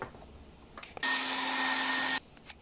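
A heat gun blasts steady and loud for about a second, warming the plastic pieces of a McFarlane toy figure so they loosen, then cuts off to quiet room sound.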